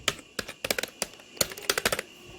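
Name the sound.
typing on a mechanical keyboard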